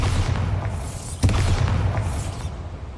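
A Bombarda spell explosion in the video game Hogwarts Legacy: a single sharp, loud blast about a third of the way in, with a rumbling low-end tail over a steady game ambience.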